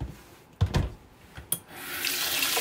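Kitchen tap water running into a sink while dishes are rinsed, a short splashing burst followed by a steady, close hiss of flowing water that builds toward the end, with no talking.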